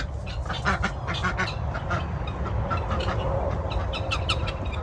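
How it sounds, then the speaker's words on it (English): Ducks in a small farm pen quack in rapid overlapping bursts, close and loud over a constant low rumble of background noise. "There's a little pen for the ducks."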